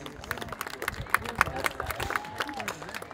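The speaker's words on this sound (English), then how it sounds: "What are you clapping for?" Crowd at a rodeo bronc-riding show at the Sydney Royal Easter Show claps in a thin, scattered round of applause, with a few sharp louder claps over a busy murmur of voices and background noise.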